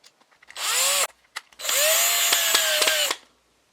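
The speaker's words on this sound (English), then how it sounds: "we're going to put it right in the center of the dowel rod. And we're going to screw it in." A power drill drives a small screw into the center of a wooden dowel rod while building a puppet theater, one short whirring burst, then a brief pause and a longer, steady run that stops abruptly, close and loud.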